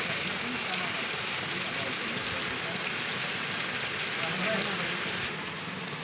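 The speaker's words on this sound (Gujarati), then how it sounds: "વરસાદ બધી ચાલુ છે અવિરત" Steady rain falls continuously, a dense even hiss of drops on surfaces with no breaks, heard fairly close throughout.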